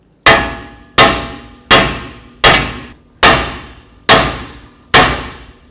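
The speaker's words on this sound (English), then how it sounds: "we're going to continue on by hitting along the knuckle" Hammer blows struck along the steering knuckle of a 2006-12 Ford Fusion during a front wheel bearing and hub job: seven sharp metallic clangs, evenly spaced under a second apart, each ringing out and decaying, loud and close.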